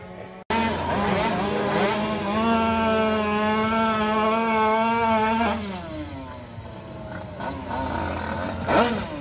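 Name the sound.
motorcycle wheelie launch at drag race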